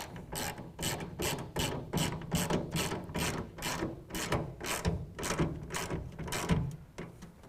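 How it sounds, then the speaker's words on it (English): A ratchet tightens a clamp on the rail of a Pace Edwards SwitchBlade metal tonneau cover on a 2007-2013 Chevy truck bed, giving a quick run of evenly spaced clicking strokes, close and alone. "As we tighten this clamp, it will do two things."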